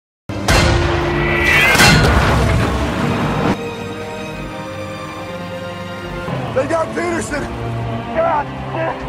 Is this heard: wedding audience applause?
no